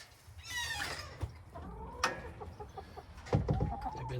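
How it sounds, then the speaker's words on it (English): Several chickens cluck close by in a backyard run, a string of short, uneven calls with a few louder squawks and no talking. "There's some chickens."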